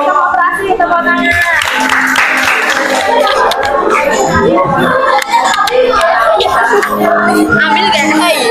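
A classroom of students claps hands in a lively mix of rhythmic clapping, shouts and children's voices, loud and close throughout.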